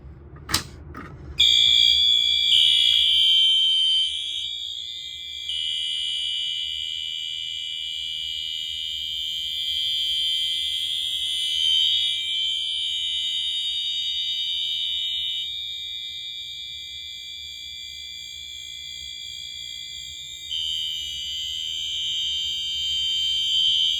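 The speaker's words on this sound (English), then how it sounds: "let's go ahead and pull the fire alarm" A middle school fire alarm system, recreated, sounds after a sharp click: a loud, steady, piercing electronic tone that holds continuously with slight wavering for over twenty seconds, with no voices.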